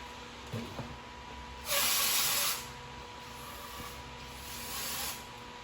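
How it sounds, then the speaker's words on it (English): Aerosol brake cleaner sprayed through a Lexus SC300 baffle in a garage, one loud hissing burst of about a second, then a quieter, shorter spray a few seconds later, with faint handling clicks beforehand. "I'm just gonna run the brake cleaner through it just to make sure there's no dirt or contamination"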